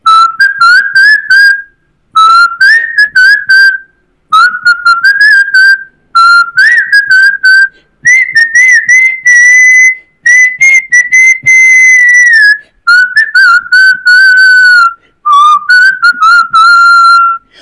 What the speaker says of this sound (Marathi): मी शिट्टीतून गाणं म्हणणार